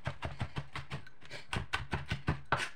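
Garlic being chopped with a large kitchen knife on a board, a quick run of sharp, evenly spaced taps close by, with a brief pause midway before the rhythm resumes.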